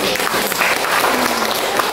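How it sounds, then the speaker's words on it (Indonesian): A church congregation at a Thursday evening worship service claps together, a dense, steady wash of applause filling the room for the whole stretch. "Tepuk tangan buat Tuhan"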